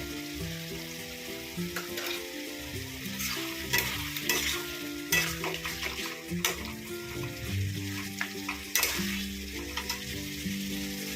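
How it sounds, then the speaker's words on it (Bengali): Spiced potatoes fry in oil in a pan for a Bengali fish curry, the spoon scraping and stirring in an uneven rhythm over a constant close sizzle, with music playing throughout. "এবার মশলাটা আলুর সঙ্গে ভালো করে কষে নেবো এত কতক্ষণ না তেল ছাড়ে"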